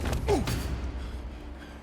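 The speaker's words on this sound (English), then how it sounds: "This blasted door is stuck!" A stuck wooden door creaks open in the Horizon Zero Dawn Remastered video game, a short strained creak with thumping at the start, then fading to quiet.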